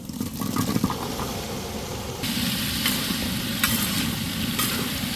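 Garlic, green chili and curry leaves fry in sesame oil with a steady, fairly loud crackling sizzle that thickens partway through, alongside a few faint scrapes.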